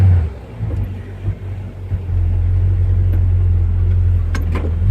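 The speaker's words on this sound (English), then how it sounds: "I can't stand a car with an exhaust leak. Up there, header leak, exhaust manifold leak." A car engine idles steadily with a low, constant rumble and a slight ticking pulse from an exhaust manifold and header leak, loud and close with no talk.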